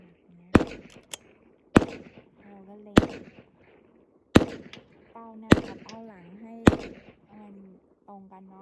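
Sharp single .22 rifle shots fired at an outdoor range, six cracks spaced about a second apart, each loud and abrupt with a short decay, while someone talks between them.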